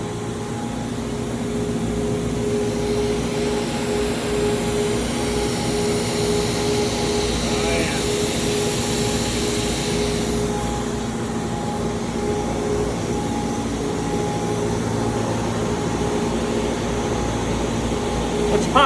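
CNC milling machine running in a shop where aluminum end caps are machined, giving a steady loud mechanical hum with tonal whine and a brighter high-pitched hiss for the first half that then drops away.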